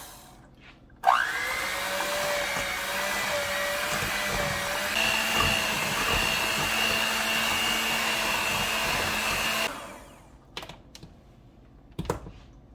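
An electric hand mixer whirs loudly and steadily through cream cheese for pumpkin spice frosting, running for about nine seconds with a slight pitch change before cutting off, leaving faint clatter afterward.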